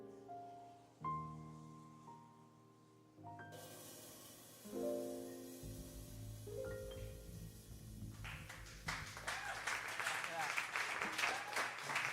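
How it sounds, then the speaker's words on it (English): A live campus audience bursts into applause after a jazz performance of a tune, the clapping swelling into a dense, loud patter over the final seconds, following lingering sustained instrumental notes. "I think he deserves another round of applause"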